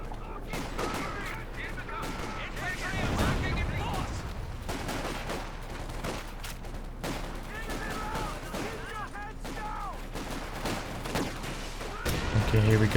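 Rapid bursts of video game infantry gunfire crackle continuously with distant explosions and battle noise, under speaking voices, dense and busy throughout.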